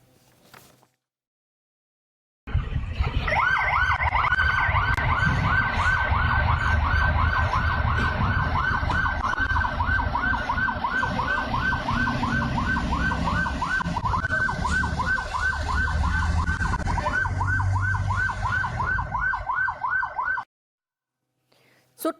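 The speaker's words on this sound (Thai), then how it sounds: "เปิดเสียงไซเรน" A loud wailing Thai police car siren cycles rapidly up and down for most of the clip, close by, over a low vehicle rumble, then cuts off abruptly.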